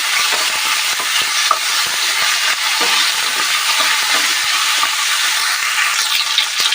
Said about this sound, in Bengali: আলুগুলো আমরা ভালো করে ভেজে নেব।